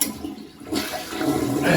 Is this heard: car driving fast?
no